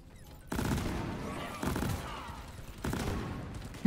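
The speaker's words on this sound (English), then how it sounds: "I love explosive chemical rounds" Bursts of explosive chemical-round gunfire from a weapon in the video game Deep Rock Galactic, three heavy salvos each starting sharply and fading into rumbling, fairly loud and near.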